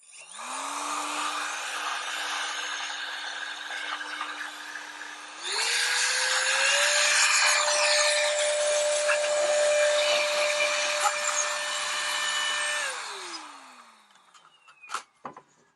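A rechargeable variable-speed compressed air duster blows dust, its motor running as a steady whine that steps up to a higher speed midway, holds, then winds down, followed by a few small clicks.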